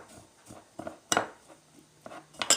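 Panko pecan seasoned breading being mixed in a bowl, scattered clinks and scrapes of utensil against the dish in irregular bursts, fairly close, with quiet gaps between strokes and no talking.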